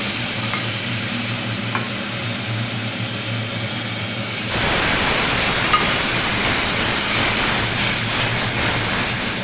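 Cumin paste and red chili paste hit hot oil with a sudden, steady loud sizzle and stirring that starts partway through, following a quieter low kitchen hum.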